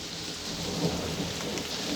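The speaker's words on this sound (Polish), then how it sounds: "cały czas pada" Steady, dense rain falling during a thunderstorm near an abandoned car service building, a loud continuous hiss of drops on surfaces with low rumbling underneath.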